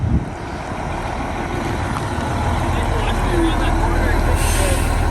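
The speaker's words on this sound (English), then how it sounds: "just getting the bus warmed up" A bus engine warming up idles in a low, steady rumble that swells slightly over several seconds, with people talking nearby over it.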